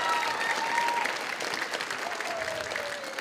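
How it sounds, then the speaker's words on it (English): Applause from a school audience at a 5th and 6th grade winter band concert, a steady dense clatter of many hands with crowd noise, sustained throughout at moderate loudness. "So let's give her a round of applause wherever she went to"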